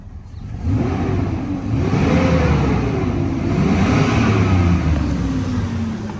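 A 2001 Chevy Silverado 5.3L pickup truck engine revs up close, rising and falling through a couple of throttle blips before settling back.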